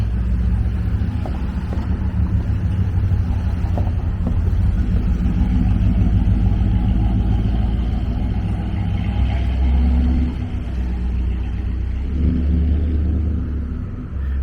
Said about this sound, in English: Here's that truck.